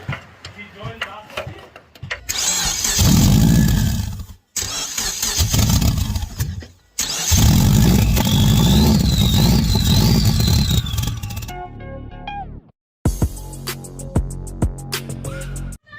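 A turbocharged car engine with its downpipe loose from the turbo and oil seeping out cranks, starts and settles into a loud, rough idle close by. It cuts out briefly a couple of times, and a person talks over it.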